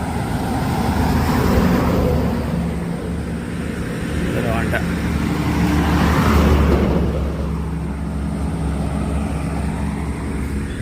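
Lorries approach along a road, a continuous low engine rumble that swells and eases as they draw nearer, with people talking over it.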